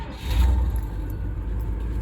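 A 1975 Pontiac Grand Ville convertible with a 400 engine fires up with a quick surge of low rumble, then keeps running in a steady, close, deep idle.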